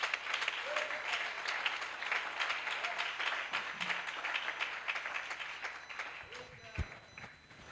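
A church congregation applauds steadily throughout, a dense, even wash of clapping from many hands filling the room, with a few voices calling out over it near the end.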